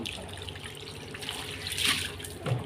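Tap water runs steadily into a household container, a continuous rushing trickle with a brief louder surge near the end, close by and alone.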